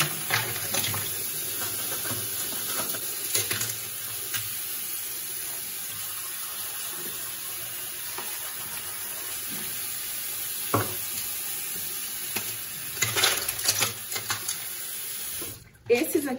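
Tap water runs steadily into a bathroom sink while makeup brushes, some with wooden handles, are wetted and rinsed after use with cream products, a continuous rushing wash with small splashes and brief bursts near the end.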